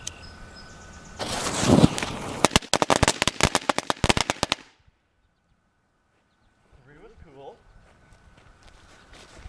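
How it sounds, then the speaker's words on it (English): Homemade firecrackers made from cut-down fireworks on a fast-burning fuse go off in a loud, rapid string of sharp cracks and pops for a few seconds, then stop, leaving faint rustling and distant birds. "So they're kind of like little mini fireworks, not necessarily firecrackers, but still pretty cool."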